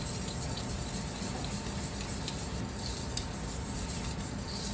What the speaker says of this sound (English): then you're going to whisk them together